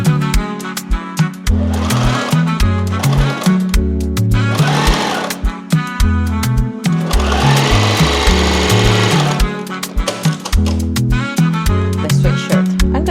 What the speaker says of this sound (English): I'm gonna do a little bit more top stitching around here.